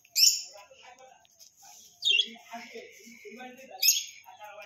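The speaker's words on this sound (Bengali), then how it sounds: "লাভ বার্ড দেখো কি সুন্দর না" Caged lovebirds give three sharp, piercing chirps spaced a couple of seconds apart, close by, with softer twittering and chatter between them.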